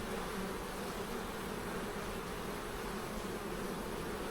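A steady, dense drone of honey bees buzzing around an open hive during an inspection, continuous and even throughout, close and fairly quiet, with no talk.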